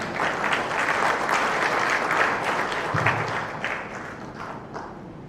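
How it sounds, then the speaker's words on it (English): A conference audience at the MiDAS defence conference gives a speaker a round of applause. The clapping is steady, dense and moderately loud and fades slightly toward the end. "let us give a huge round of applause to Mrs. Lilianne Fan"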